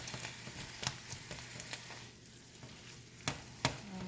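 Taco meat browns in a pan for fried tacos, a faint, low hiss of frying dotted with sporadic sharp ticks and pops, with no talking.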